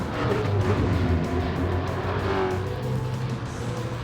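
A low-slung Ferrari race car at a racing club track event roars loudly and continuously close by, its engine note steady and harsh throughout, with no talking.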